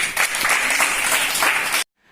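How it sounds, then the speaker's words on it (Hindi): A class of students in a school lesson claps together in a short, loud burst of applause that cuts off abruptly, leaving near silence for the last moment. "ताली बजाओ इनके लिए।"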